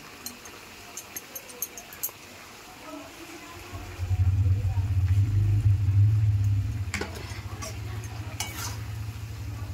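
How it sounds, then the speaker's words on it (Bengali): Shrimp and taro stolon curry in a pan, a few light utensil taps, then a low bubbling simmer that swells for a few seconds and settles into a steady quieter boil. "তরকারিটা আমার ফুটছে"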